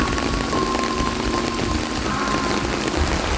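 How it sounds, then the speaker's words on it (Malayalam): Heavy rain pours down steadily at Kava in Palakkad, a dense, even hiss of drops striking surfaces, loud and continuous for the whole stretch with no speech. "വിചാരിച്ച പോലെ തന്നെ നല്ല മഴ ഉണ്ടായിരുന്നു"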